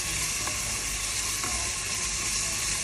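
Sliced onions frying with half a teaspoon of salt in a pan for cooker biryani, a steady dense sizzle with a couple of faint stirring clicks, no voices.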